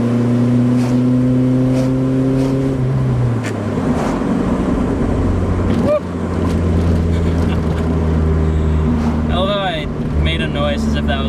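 A 1992 Volvo 240 accelerates at full throttle, its engine droning loud and steady with a rising pitch, then dipping briefly at a gear change before pulling again. A voice whoops partway through.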